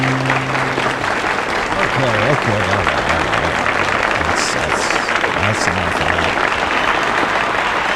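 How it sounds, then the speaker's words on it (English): Audience applause fills the room in a continuous, loud roar of clapping while someone speaks briefly over it. "Wow, that's a lot of applause."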